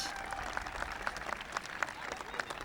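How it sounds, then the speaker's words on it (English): Audience applause rises for Senator Dianne Feinstein at a 1996 outdoor event at the Presidio in San Francisco, a dense, steady patter of many hands with scattered louder claps and faint voices mixed into the crowd. "That's a special round of applause, Mr. President"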